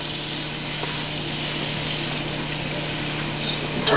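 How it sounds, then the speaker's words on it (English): Peanut butter melting in a pot on the stove, stirred with a steady soft scraping hiss and sizzle, close and continuous without talk. "I'm going to stir this all around and just let this melt."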